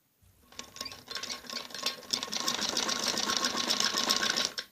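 Sewing machine stitches lace onto the neck of a kameez jacket fabric, a close, steady whirring run that builds quickly and holds until it stops abruptly.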